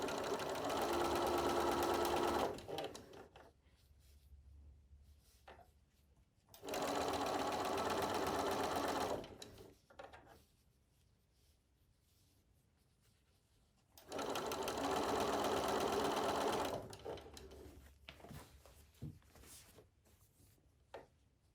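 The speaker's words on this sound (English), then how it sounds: "Now I've sewn all the way around this quilt" Sewing machine stitching double fold bias binding around a small circular quilt, running in three loud, steady whirring bursts of a few seconds each with quiet pauses between, close up.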